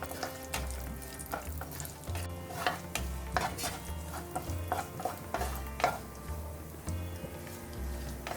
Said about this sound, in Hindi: ये कटे हुए गरी और ये कटे हुए काजू। इनको डाल करके अच्छी तरह से हम सेक लेंगे।